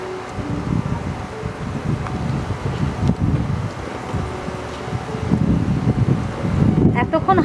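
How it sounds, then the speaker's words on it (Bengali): Wind gusts buffet the microphone outdoors, a steady low rumbling roar that swells louder toward the end, with faint rustling in the background. "এখন আবার হাওয়া বাবু এসছেন"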